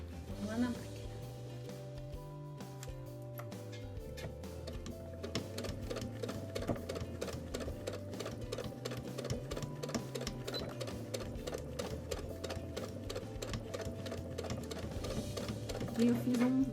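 A sewing machine stitches a straight seam on a small fabric car trash bag, with a fast, steady mechanical whir and needle ticking that runs on under a voice.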